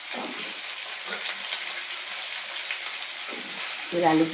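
Potatoes fry in hot oil, a steady close hiss of sizzling with short bursts of scraping or stirring at the start, in the middle and near the end.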